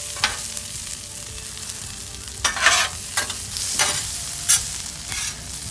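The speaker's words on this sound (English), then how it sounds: "Now what we're gonna do is we're gonna bring the caramelized onions in." Caramelized onions for a patty melt stir and sizzle in a hot pan, with a steady frying hiss broken by several short scraping bursts of the utensil.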